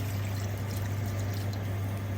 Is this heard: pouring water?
yes